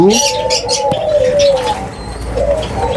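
Eurasian collared dove cooing close by, repeated rhythmic coos in quick succession with a few faint chirps in the background.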